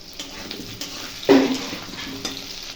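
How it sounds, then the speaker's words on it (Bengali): Three whole green chillies hit hot oil with frying onions, giving a sudden close sizzling burst over a low background hiss, with a few soft pan knocks around it. "তিনটে কাঁচা লঙ্কা গোটা কাঁচা লঙ্কা আমি এখানে দিয়ে দিচ্ছি"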